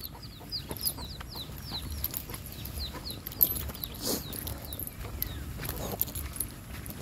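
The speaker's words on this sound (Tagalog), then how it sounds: "may manok dyan" Chickens cluck and a rooster calls faintly in an open outdoor setting, with scattered bird chirps and light rustling in the background.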